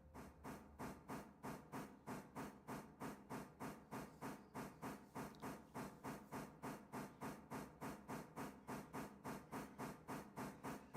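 A steam locomotive in the Railroader game works hard, giving a loud, steady, rapid chuffing with rhythmic bursts of steam exhaust that continue evenly throughout.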